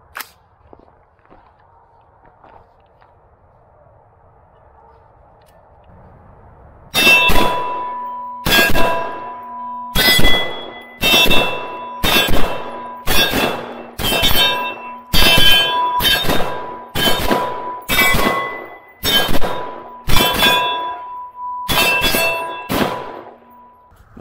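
AR-15 rifle shots fired at 50 feet in quick double taps, a run of loud sharp cracks with ringing metallic tails in spaced pairs, starting after a quiet lead-in.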